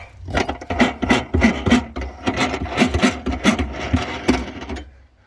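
A small plastic screw holding the spare tire in a Ford Escape is turned by hand, making a close, rapid rasping and rubbing sound with a steady ratcheting rhythm for about five seconds.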